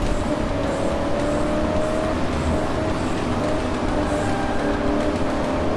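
Race car engine in the video game Alarm für Cobra 11: Das Syndikat, a steady loud droning roar with sustained tonal whine, pressing on at high revs without pause.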